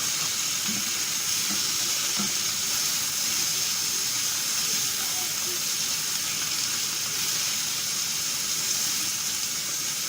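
Chopped onion and mushrooms fry in a pan, a steady close hiss of sizzling oil with a few faint knocks underneath.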